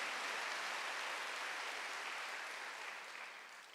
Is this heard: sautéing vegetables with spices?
no